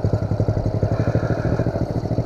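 Pro Tork TR100F mini motorcycle engine running on a dirt trail with a young rider, a close, steady, loud chugging drone with rapid rhythmic pulsing throughout.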